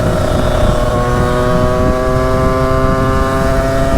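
A Derbi/Sherco 125 motorcycle accelerates with a loud, close engine note that climbs steadily in pitch as the revs rise through the whole stretch, with no voices over it.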